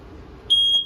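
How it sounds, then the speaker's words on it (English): A single sharp, high-pitched electronic beep from a propane detector alarm in a 2022 Forest River RPOD 202 camper sounds after a moment of quiet room tone, lasting under half a second. "This guy detects it and starts going off just like a smoke detector would."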